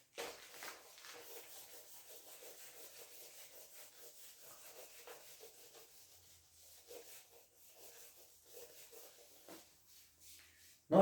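Soft, irregular rubbing strokes of a hand erasing writing from a board during a rigid body kinematics lecture, faint and close, with no talking.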